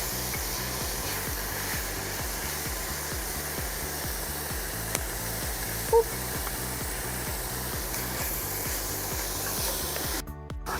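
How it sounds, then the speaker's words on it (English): Tomatoes and garlic sizzling in a pot for beef tortilla soup, a steady loud hissing fry that holds evenly throughout with a rhythmic low hum underneath. "now I'm gonna go ahead and add the tomatoes and the garlic because they don't take very long to cook at all"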